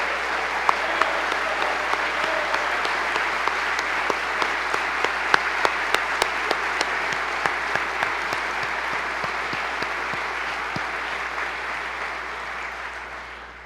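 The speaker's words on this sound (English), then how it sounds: "let's give them a round of applause for their current service going forward" Sustained audience applause for military members and veterans standing during a 2017 Michigan State of the State address, a dense wash of many hands clapping with sharp individual claps, steady throughout and tapering slightly at the end.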